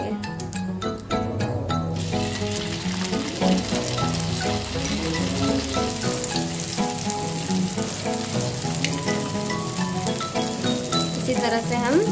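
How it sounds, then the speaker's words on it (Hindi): Soya chaap frying in hot oil in a kadai, giving a loud, dense, continuous sizzle and crackle that lasts throughout, with a few clinks near the start. "फिर हम इसमें सोया चाप को फ्राई करेंगे"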